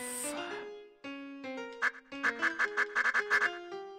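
Duck quacks from the Cubivore video game, a rapid run of bright, nasal quacks in a bouncy rhythm after a short musical jingle, loud and close with no talk over them.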